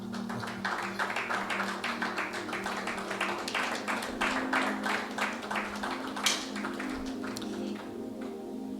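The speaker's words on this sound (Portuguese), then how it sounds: "também vou pedir uma forte salva de palmas ao nosso mestre Dércio" A talk-show audience at a pre-conference event gives a round of applause, fairly faint, even clapping with crisp individual hand strikes standing out in a steady rhythm.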